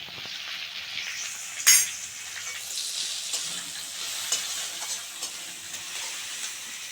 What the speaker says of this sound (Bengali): এবার আমি একটু ঘি দিচ্ছি।